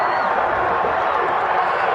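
Home stadium crowd in an NFL football video game, Green Bay Packers versus Denver Broncos, roaring steadily after a penalty flag, a dense continuous wash of cheering under commentators' speech.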